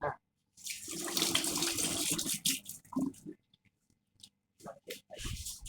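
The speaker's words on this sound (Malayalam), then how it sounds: "പിന്നെ ഞാൻ കയ്യൊന്ന് കഴുകട്ടെ" Hands are rinsed under a running kitchen tap while a coconut-milk fish curry is being made, a steady gush of water splashing for about two seconds, then a few short wet splashes and rustles.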